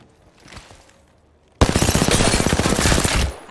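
Heavy automatic gunfire aimed at the player in Apex Legends bursts in suddenly after a quiet moment, a loud, dense, rapid string of shots that goes on for about two seconds and then stops.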